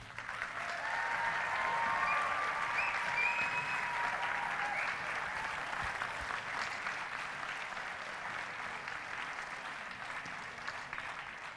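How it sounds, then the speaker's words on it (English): Graduates are applauded at a winter graduation ceremony for a school of science, engineering and environment: a large crowd claps continuously for about eleven seconds, sounding fairly distant and gradually easing off. "Let's give them another round of applause."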